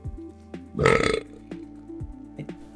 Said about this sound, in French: Elle commence à lâcher un gros rot.